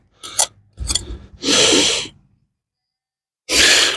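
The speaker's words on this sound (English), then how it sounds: "Get my little trowel out and see if we can just prise some of that without potentially damaging anything what could be under there." A small hand trowel prises soil away from a metal detecting find in the hills of County Durham, making a few close, sharp scraping rasps in short bursts separated by a pause.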